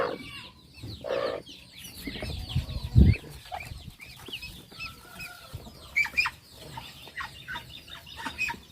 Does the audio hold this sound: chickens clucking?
yes